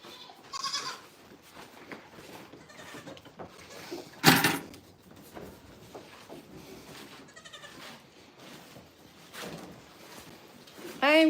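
Goats bleating in a barn on a goat farm, several short calls scattered over quiet shuffling, with a brief loud clatter like a door banging partway through and faint talk in the background.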